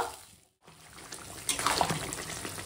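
Water is poured into a pan of spice-fried curry with rohu fish roe and pumpkin greens, a soft close trickle and splash starting after a brief pause and running to the end.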